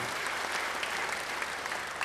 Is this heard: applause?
yes